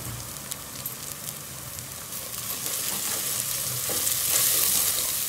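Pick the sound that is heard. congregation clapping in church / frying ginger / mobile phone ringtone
frying ginger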